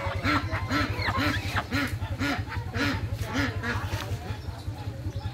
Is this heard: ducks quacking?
yes